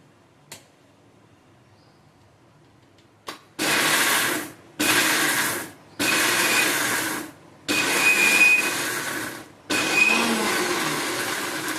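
An electric blender crushes raw mango chutney with a little water, running in five loud bursts of a few seconds each, separated by short pauses, after a couple of faint clicks at the start.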